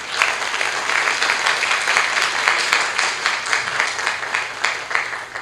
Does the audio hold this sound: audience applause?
yes